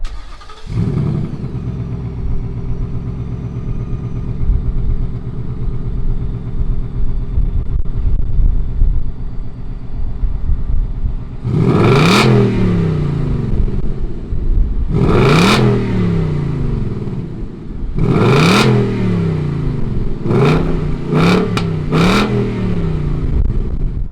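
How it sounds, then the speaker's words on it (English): A 2020 Ford Mustang GT V8 fires up and settles into a steady, loud idle, then is blipped with several sharp throttle revs, the last few coming in quick succession. "let's fire up this Mustang GT and see what it sounds like"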